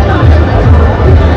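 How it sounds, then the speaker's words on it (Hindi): Dense crowd hubbub fills the Ashoknagar Kalyangarh Banipur fair, a loud, close, continuous babble of many voices with no single clear speaker. "बहुत भीड़ है"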